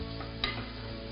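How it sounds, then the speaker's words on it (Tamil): Onions frying golden in a pan give a brief, steady sizzle lasting about a second, with a faint stirring scrape in the middle. "வெங்காயம் கொஞ்சம் நல்லா பொன் வறுவலாக வறுக்கணும்"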